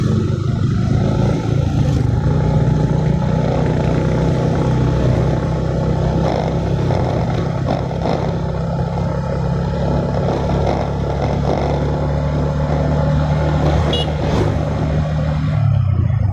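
Steady drone of a 2016 Yamaha Jupiter MX 150cc motorcycle being ridden from Purworejo toward Banyuasin market, a constant low engine hum with road and wind noise, no talk.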